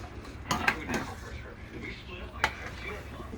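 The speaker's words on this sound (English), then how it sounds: "using the same spoon that we used to stir the sauce with, we're going to stir the noodles for about 10 minutes" A spoon stirs spaghetti noodles in a cooking pot in a home kitchen, giving a few scattered metallic scrapes and clinks against the pot over a steady low background hiss, with a couple of sharper knocks standing out.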